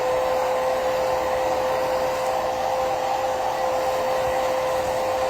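A hair dryer blowing steadily on a watercolor painting to dry it, a loud, constant whirring drone with a strong hum that never lets up.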